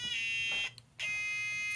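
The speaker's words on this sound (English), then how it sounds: "Love that it lights up and has the buzzer." An electronic buzzer on a miniature Operation board game sounds twice, a shrill, steady tone cut by a brief gap, close and loud with no talk.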